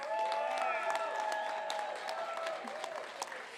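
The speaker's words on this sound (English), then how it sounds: "let's give another round of applause to BLQK and the Ranchers" Crowd applause at a Major League Pickleball finals in Newport Beach, moderate clapping spread across the stands beneath prominent music and voices, slowly tapering toward the end.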